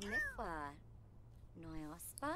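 Cat in The Sims 4 game meowing twice, drawn-out harmonic meows separated by a short pause, close and clear.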